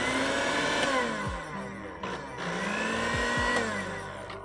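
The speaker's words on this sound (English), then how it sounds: "We're gonna blend this thing." A blender whirs loudly in bursts, its motor pitch sagging and rising as it churns through melon, with short clunks between surges.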